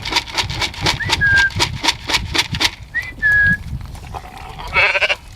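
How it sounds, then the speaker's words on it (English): Repeated sharp whistles from a person calling pigs, some rising, over a steady run of rhythmic bleating or squealing pig calls nearby on a farm, with a brief shrill burst at the end. "I whistle, make some noise."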